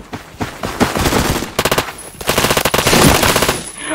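Rapid bursts of automatic machine-gun fire from a video game ring out loud and close, rattling in dense repeated volleys with a brief pause between them and no talk over them.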